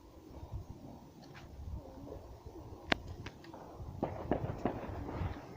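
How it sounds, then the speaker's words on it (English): Fireworks mortars going off outdoors at night, a few sharp distant bangs and crackles scattered over a low rumbling background. "there goes the mortar fire"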